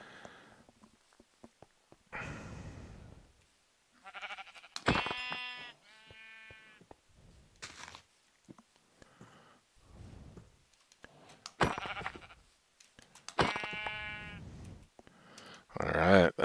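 Sheep in the Minecraft video game bleat repeatedly across a plains area, with several separate bleats spread between clicking and footstep sounds from gameplay.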